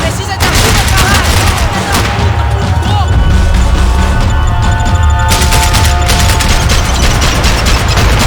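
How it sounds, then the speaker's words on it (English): Max Payne 3 firefight: dense, loud, continuous gunfire and crashing impacts filling the whole stretch, with game voices shouting underneath the chaos. "I can't concentrate with bullets whizzing past my head!"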